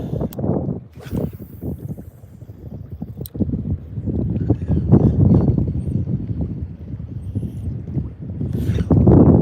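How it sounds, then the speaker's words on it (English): Steady outdoor wind roars and buffets a microphone on a fishing trip for catfish, a continuous rushing noise that swells louder toward the end. "the wind is picking up"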